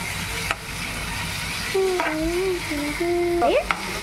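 Chopped tomatoes being stirred as they fry in a pan, a steady close sizzle with scraping spoon strokes and a few sharper clinks against the metal.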